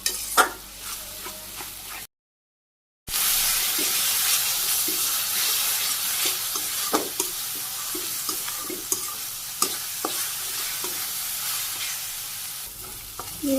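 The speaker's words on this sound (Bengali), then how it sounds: "তারপরে হলুদের গুঁড়ে শুকনো মরিচের গুঁড়ে কয়েকটা কাঁচামরিচ ভালো করে কষিয়ে নিই" Turmeric, chili powder and green chilies sauté in a pan with ginger, onion, garlic and salt, giving a steady close sizzle broken by repeated scraping stirs, with a brief dropout early on.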